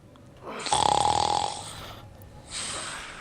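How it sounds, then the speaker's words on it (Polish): A person snoring loudly and close, with one long, harsh rattling inhale followed by a softer breathy exhale, and no talk over it. "chrapiesz, kurde"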